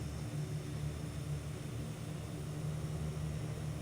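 Steady, loud propeller-engine drone of a Metroliner aircraft in a flight simulator game, a constant broadband roar holding level throughout with no talk.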